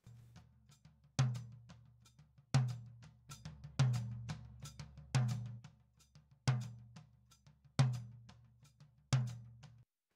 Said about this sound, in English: So I used a gate on the rack tom because it only plays every so often.